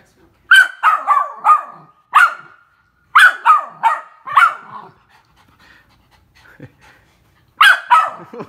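A dog barks in quick bursts of three or four sharp yips, pauses, then barks again, loud and close, with a quiet lull before a final burst.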